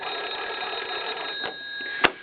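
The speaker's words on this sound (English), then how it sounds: "Fairly loud ring signal." Hungarian Royal Army 41M field phone ringing when called from an EE8, a continuous buzzing ring signal that stops, followed by a couple of sharp clicks, close and fairly loud.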